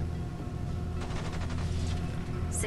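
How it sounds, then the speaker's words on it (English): Distant turret gunfire in the space sci-fi game Genesis Alpha One, a rapid train of faint shots rattling over a steady low ambient hum, with no voices. "I hear gunfire from the turret way over there."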